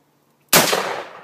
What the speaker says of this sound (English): First time firing it, so let's see how she works out for us.